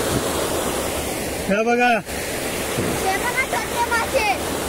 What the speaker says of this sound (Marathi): पाण्यात जोर हा भरपूर मंडळी तुम्ही बघतास.